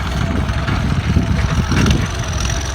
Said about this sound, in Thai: ขับรถไถไถนาเนี่ยนะครับ